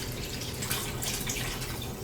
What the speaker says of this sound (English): And then I'm going to fill it up with cold water.